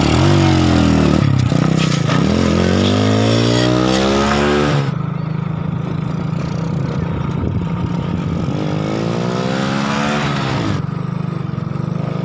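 A motorbike engine runs close by, rising and falling in pitch through a few revs and throttle swells before settling into a steadier drone, with no talk over it.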